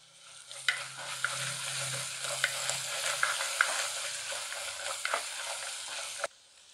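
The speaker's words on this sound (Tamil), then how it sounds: "நல்லா வதக்கணும்." Green chillies, dried chillies and ginger being sautéed in a pan for citron pachadi give a steady, close sizzle with scraping stirring strokes throughout. The sizzle stops abruptly at the end, and no one speaks.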